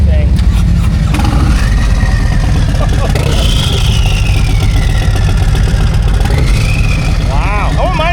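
The engine of a turbocharged Harley-Davidson Road Glide motorcycle rumbles loudly and continuously close by, with a deep throb and turbo whistle rising and falling, while people talk over it in a busy saloon setting.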